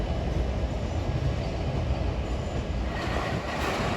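Long Island Rail Road train for Huntington pulling out of Jamaica station, a dense continuous rumble and rush of rolling wheels and cars, loud and close, with no voices.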